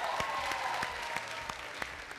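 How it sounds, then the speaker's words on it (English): A studio audience on the Tusker Project Fame 5 talent show applauds after a contestant's performance. The clapping is steady and fairly faint, with a few sharp individual claps and a soft tone lingering underneath. "Ladies and gentlemen, give a huge round of applause to Sanai Pei."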